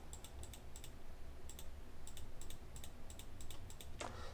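Computer keyboard keys and mouse buttons click in quick little clusters while cells are selected in an Excel spreadsheet, with crisp, close taps over a faint steady hiss and no talking.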